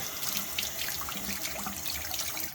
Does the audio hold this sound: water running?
yes